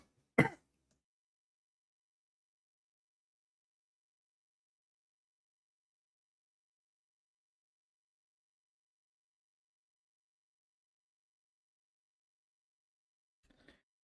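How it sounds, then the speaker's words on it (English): A single sharp cough or throat clear breaks a long silence, followed near the end by a faint rustle. "I had to cough hard."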